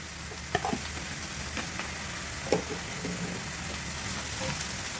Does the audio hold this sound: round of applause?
no